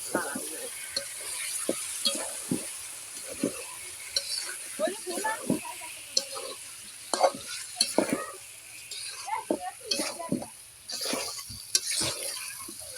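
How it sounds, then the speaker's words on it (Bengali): Chicken stirred and fried in a pan for bhuna khichuri, a steady sizzle under repeated scraping strokes of a spoon against the pan, close and continuous. "এখন আমি আবার চিকেনটা দিয়ে দেবো"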